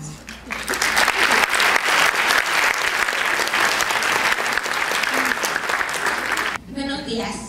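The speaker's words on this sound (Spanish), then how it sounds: "Un aplauso." Dense audience applause fills an event hall, loud continuous clapping from a large crowd that runs strongly for several seconds before cutting off, followed by brief speech.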